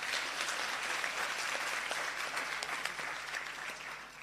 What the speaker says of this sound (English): I think it deserves another round of applause from you.